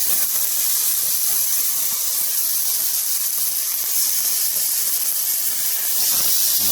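Tomatoes fry in a hot pan with a loud, steady bright sizzle and hiss that holds evenly throughout, close by with no voices.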